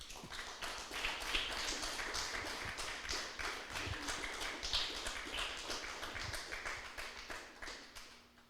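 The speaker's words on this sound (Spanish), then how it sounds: "Denle un fuerte aplauso al Señor" A church congregation claps in a quick, steady rhythm for a while, the sharp hand claps fairly faint and slightly distant, with no talking over them.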